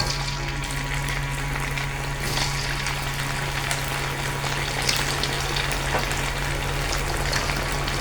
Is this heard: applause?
no